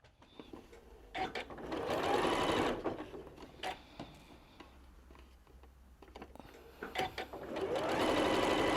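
A sewing machine stitches a heart quilt block in bursts, its needle chattering rhythmically and close, pausing between runs with faint handling noises in the gaps.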